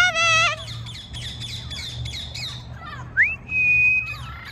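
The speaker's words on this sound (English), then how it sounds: "Oh, that's a double yellow-headed Amazon." A double yellow-headed Amazon parrot gives loud harmonic squawks and calls, including a rising whistled note held for about a second, over low background rumble in an outdoor setting.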